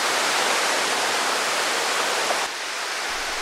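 A stream flows steadily at a campsite in summer, with a loud, continuous broadband rush of water close by, unbroken, and no voices.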